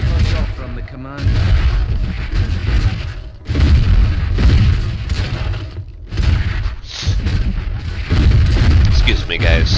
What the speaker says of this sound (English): These explosions are so loud.